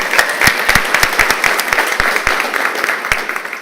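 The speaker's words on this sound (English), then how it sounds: "let's give Sanaya a big round of applause" Audience applause at a live festival session in a room, steady dense clapping from a crowd that holds for several seconds at a fairly loud, even level.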